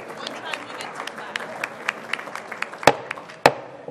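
Scattered light clapping from a small group at a town meeting, a few sharp claps standing out, with murmuring voices underneath.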